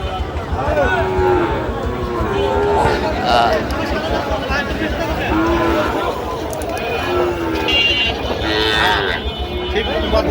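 Cattle, including Sahiwal bulls and calves, low repeatedly at the traditional Ambari livestock market in Dinajpur, with several moos rising over a loud, steady crowd din and people talking throughout.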